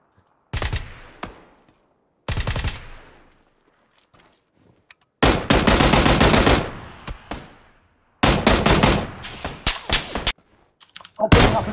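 Gunfire in the battle royale game PUBG: several separate bursts of rapid shots, loud and close, broken by short silences, with a few isolated single shots.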